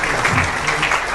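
Applause at a formal gathering for a Haitian prime minister, a dense steady clatter of many hands clapping, loud and continuous throughout.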